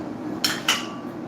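Plates being handled in a kitchen while making toast and egg give two quick, close ceramic clinks a moment apart against a quiet background.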